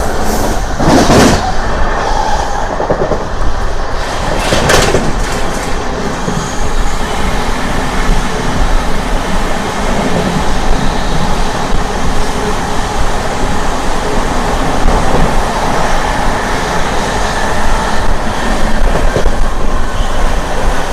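An Amrit Bharat Express train runs past Kavali station with a steady, loud rumble of rolling wagons and rail noise throughout, with a few sharper clatters near the start.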